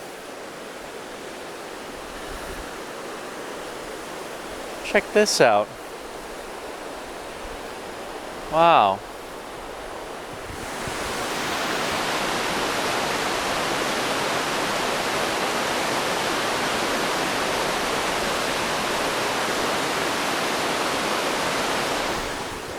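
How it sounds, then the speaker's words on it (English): Water rushes steadily through smooth channels carved in granite rock, heard from a bridge above; a broadband roar holds constant for the final twelve seconds, preceded by quieter moments with brief exclamations from a voice. "this beautiful water flowing through granite rock"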